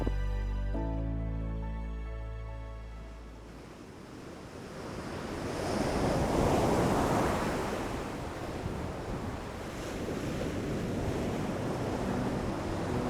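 Ocean surf at the southernmost point of Africa rolls in steady, rushing swells that rise and fall with wind noise, after a short tonal passage at the start; no one speaks.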